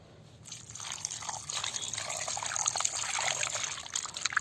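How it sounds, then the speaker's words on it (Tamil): Pieces of beef heart rinsed in water with turmeric, producing a close, steady trickle and splash of sloshing water that builds gradually, with no voices. "மஞ்சத்தூள் போட்டு நல்லா அலசிக்கிட்டு"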